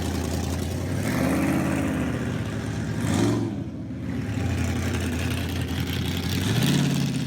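Car engines at a quarter-mile drag strip idle and rumble at a distance, with one vehicle swelling past in the middle and another engine rising near the end; no talking.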